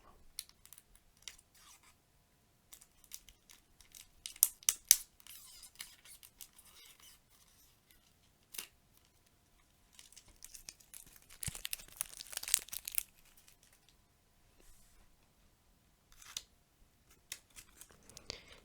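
Seal on a Bicycle Fire Element playing card deck being opened, quiet close crinkling and tearing of paper and cellophane with small clicks and scratches, in soft sporadic bursts against near silence.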